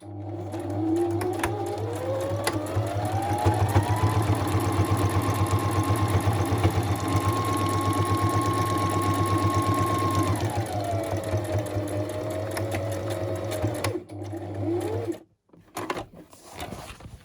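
A sewing machine runs steadily for about fourteen seconds, stitching a line across the center of a paper ephemera folio, its motor whirring evenly before stopping abruptly with a few short bursts at the end; no talking.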